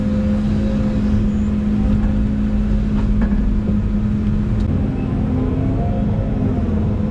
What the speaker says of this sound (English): let me go load the dump truck